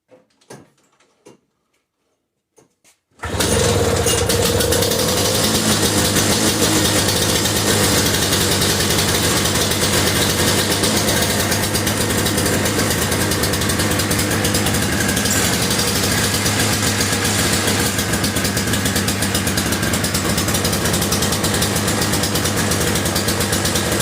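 An older Toro single stage snow blower with a broken muffler bolt starts after a few quiet clicks and then idles loudly and steadily nearby for the rest of the time.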